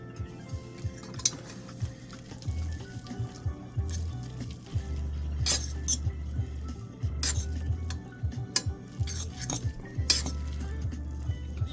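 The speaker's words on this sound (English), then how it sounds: "Let me give it a mix nice and quick." Instant scallion oil noodles are mixed with their flavour flakes, with a utensil clinking and scraping quickly and repeatedly against a bowl or pot over a low hum, up close.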